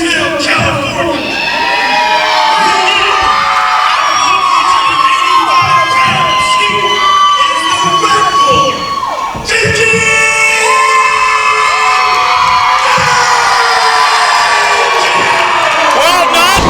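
Wrestling crowd at a PCW event cheers loudly for the challenger from Marysville, California, on his entrance, with shouts and whoops in a steady roar that dips briefly midway before surging again.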